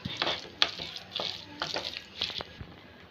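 Sautéed vegetables get stirred into a white sauce in a pan, with soft scraping and wet stirring strokes in short irregular bursts, close and fairly quiet.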